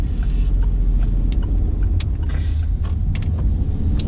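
A Peugeot 2008 car engine idling low at around 1000 rpm with the clutch disengaged, a steady close low rumble with faint ticking over it throughout.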